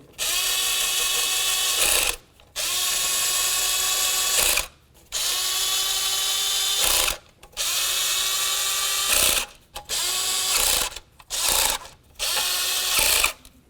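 A ratchet snugs up valve cover bolts on a 1998–2002 Honda Accord in repeated bursts of rapid clicking, each lasting about two seconds, separated by brief pauses and growing shorter toward the end.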